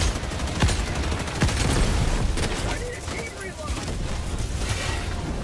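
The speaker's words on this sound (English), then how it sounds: "Requesting air support! Airstrike coming in." Helldivers 2 gameplay with airstrike explosions and bursts of gunfire crackling and booming in a dense, loud battle mix, with sharp impacts early and continuous rattling fire under voices talking.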